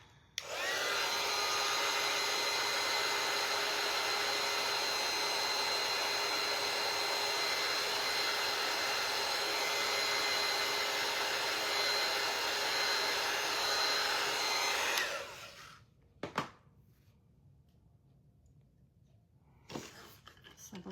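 A dryer blows hot air onto freshly painted dots on a wooden sign, running at a steady, close, loud whine for about fifteen seconds, then cutting off. A few soft knocks and clicks follow.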